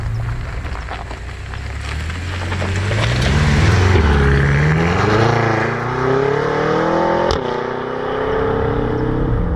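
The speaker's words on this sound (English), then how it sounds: "Twin turbo V8." A powerful twin-turbo V8 engine of a BMW F10 M5 Competition Package revs and accelerates hard, its pitch climbing steadily through the gears, loud and close.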